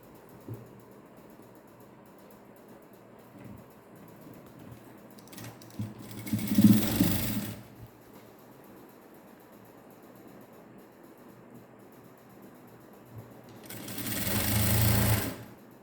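A sewing machine joins the waist section of a net blouse in two short bursts of stitching, separated by quiet handling of the fabric, with a low hum running underneath.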